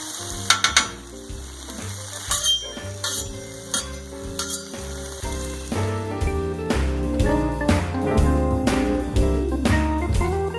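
Garlic and ginger fry on a Blackstone griddle, alongside baby bok choy in the cook, with steady close sizzling and repeated scraping and stirring clatter that grows louder and busier in the second half, no talking.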